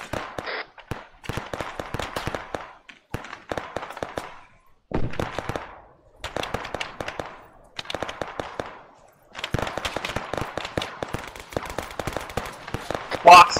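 Gunfire crackles in bursts in the video game ARMA 3 as a frag grenade goes off amid the fighting: rapid rattling volleys separated by short pauses, loud and close, with voices calling out between them.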